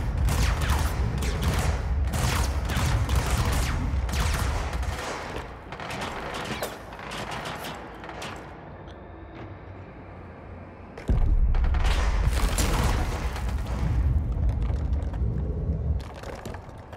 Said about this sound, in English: Oh, someone else is shooting.